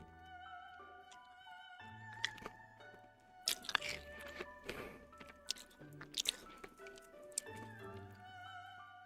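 Candy cane being crunched and chewed up close, with irregular sharp crackling bites and crunches over about nine seconds, some sustained tonal background throughout.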